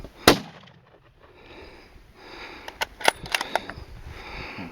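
A single sharp rifle crack on an elk hunt rings out outdoors, followed by a quiet pause and then a cluster of fainter clicks and snaps.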